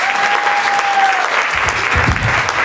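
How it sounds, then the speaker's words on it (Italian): An audience at a blues concert in a theatre claps steadily and loudly, a dense wash of applause throughout with a brief low thump toward the end. "Applauso."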